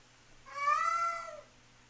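A cat gives a single drawn-out meow, high and wavering like a small child's cry, close and clear against a quiet background.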